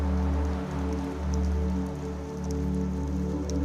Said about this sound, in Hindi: बारिश अभी भी हो ही रही है कंटिन्यूअस।